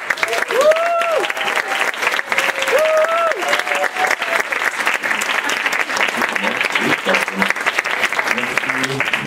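An audience applauds at a French-language conference, with steady, sustained clapping filling the room, while a voice talks over it at moments and tonal sounds pass early on.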